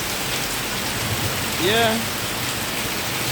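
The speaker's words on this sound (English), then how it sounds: "It's raining, and you can hear the thunder all around me." Steady rain falls on a rainy day in Kingston, Jamaica, a continuous even hiss close by, with a brief voice partway through.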